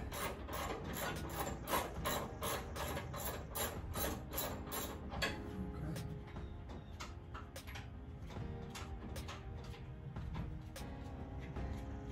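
A ratchet unscrews a part from a small block Mopar engine during a water pump replacement, quick repeated clicking strokes close up for several seconds, then softer scraping and handling.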